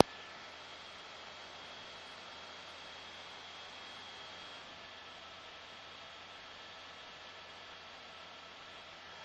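A steady, even engine roar fills the cabin from inside the helicopter, a constant broadband drone with no pauses or voices.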